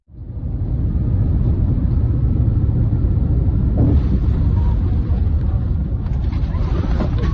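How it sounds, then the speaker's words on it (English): Aeromexico Boeing 787 Dreamliner rejecting its takeoff after a bird strike, a loud, steady jet-engine roar with low rumble that holds throughout, with a brief surge partway through. "Massive bird strike and rejected takeoff on this Aeromexico Boeing 787 Dreamliner."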